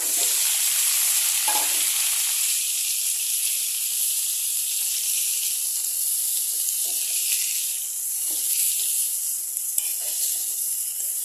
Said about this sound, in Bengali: তো এখন আমি কী করবো, এখানে এই সবজিগুলো দিয়ে দিব।